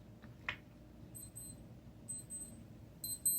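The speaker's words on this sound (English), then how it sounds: "This is my famous watch. It starts beeping when it wants to emphasize something." Faint, short electronic beeps from a wristwatch come in small clusters, a few times, over quiet room noise.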